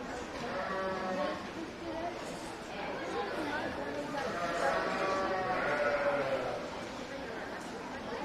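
Sheep at the O'Brien County Fair show, including a white-faced commercial ewe, bleat repeatedly over the crowd's murmur while an announcer keeps speaking.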